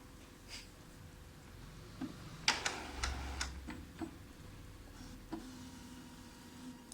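An Epson inkjet printer carriage whirs and clicks as it moves slowly at startup, with a brief mechanical rattle and soft ticking knocks at a moderate level, no talking.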